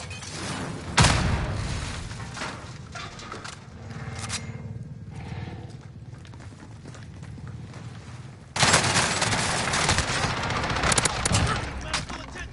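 In a shooting video game, C4 and a frag grenade explode amid gunfire, with loud dense bursts of shots and blasts, a quieter stretch midway, then another sustained barrage.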